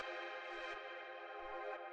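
A quiet, sustained FM synth chord of sine-wave tones is swept through a bandpass filter, a smooth electronic drone with faint pulses low in the mix, heard on its own in a minimal house production.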